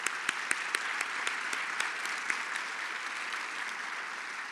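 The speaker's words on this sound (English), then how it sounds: "and I think also deserve a round of applause." Applause from an audience at a community safety gathering honours Jewish war veterans seated in the front, a steady wash of clapping with a few sharper claps standing out near the start, moderately distant and fading slightly.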